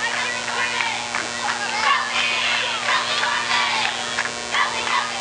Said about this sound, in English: There's still energy in their dugout and they're still cheering them on.